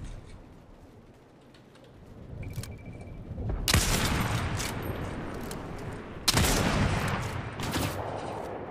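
Sniper rifle shots in a video game aimed at a chicken: two sharp, loud cracks a few seconds apart, each followed by a rumbling tail, over low game ambience.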